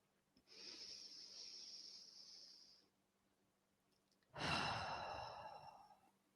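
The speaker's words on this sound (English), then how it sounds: "And another breath, the last one." Two slow, deep breaths taken during a guided meditation, a long airy inhale and a fuller, louder exhale, close and clear against a quiet background with no talking.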